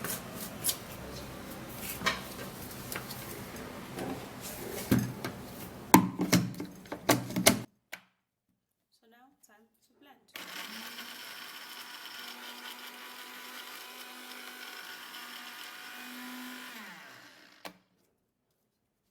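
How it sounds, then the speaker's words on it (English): A blender runs steadily for several seconds on dry ingredients with no water added, a constant whirring motor that cuts off abruptly, preceded by clattering handling noises and a short pause. "I'll grab my blender and blend it without putting in any water"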